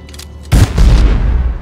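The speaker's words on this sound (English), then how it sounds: "So the force gun does a delayed reaction pulse thing." Force gun in Dead Space 3 firing a delayed pulse: a quiet lead-in, then a sudden heavy boom that rolls into a sustained, loud low-end rumble that holds for about a second.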